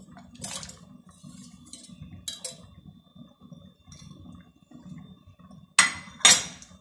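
A utensil stirs white chocolate melting in a pot, with soft scraping and a few sharp metallic clinks against the pot, close and fairly quiet, ending with two louder knocks.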